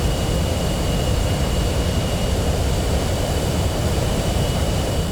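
A jet engine at full thrust in the flight game DCS World, a loud, constant roaring whoosh with a steady high whine, unbroken for the whole stretch with no voices.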